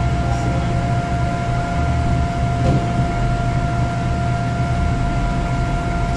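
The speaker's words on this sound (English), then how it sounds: "you hear the sound of the rinse pump when it's filling up and also when it's rinsing at the end of the cycle" An SCBA decontamination unit's rinse pump runs with a steady, close mechanical hum and water rushing, constant and unbroken throughout, with no talking.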